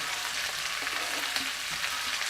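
Chopped onion and celery sauté in a hot pan with ginger and garlic, a dense, even sizzling hiss heard up close and alone, with faint stirring scrapes.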